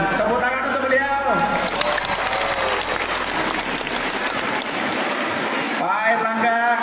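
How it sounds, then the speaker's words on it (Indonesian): Dense crowd applause at a rally of volunteers in Makassar, loud and steady for several seconds, with amplified voices audible at the start and end. "Tepuk tangan untuk beliau."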